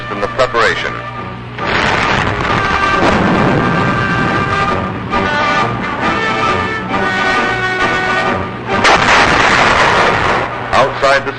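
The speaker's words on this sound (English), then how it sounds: "Bombing and strafing aircraft assist in the preparation." Wartime bombing and strafing by aircraft near Okinawa in 1945, a loud dense barrage of explosions and gunfire rumbling continuously with heavier bursts, mixed under a narrator's voice and background music.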